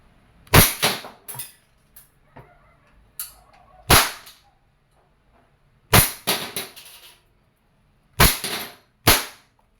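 An Umarex Beretta M92A1 airgun pistol fires five sharp, loud cracks at uneven intervals, with a few fainter clicks and handling noises between the shots.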